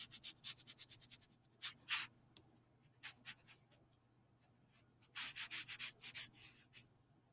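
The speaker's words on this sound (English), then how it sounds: "So let's erase a bit of this" An eraser rubbing across a writing board in a quiet room: faint bursts of scratchy rubbing strokes in quick runs, pausing and resuming, with no talk.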